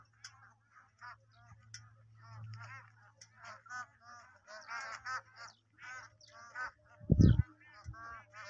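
A flock of migratory birds, likely geese, calls from a lake in a busy stream of overlapping honks and chatter, faint to moderate, over a low steady hum and one brief thump.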